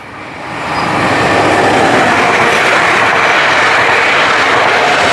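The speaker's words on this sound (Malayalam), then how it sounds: "ബ്രഹ്മനിലേക്ക് പോകുന്ന ട്രെയിനാണ്ടാ പോയത്." A train bound for Bremen, Germany, rushes past on the railway track, its loud, steady roar swelling within the first second and holding dense and close to the end, with no voices.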